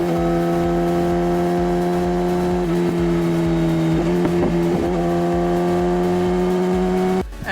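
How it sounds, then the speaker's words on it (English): A 2018 BMW S1000RR superbike on the road holds a steady, loud engine drone, with a quick cluster of abrupt pitch jumps from quickshifter and auto-blipper gear changes midway, and a sharp drop at the end. "You can just keep the throttle closed immediately and boom, downshift, downshift, boom, downshift, boom, downshift."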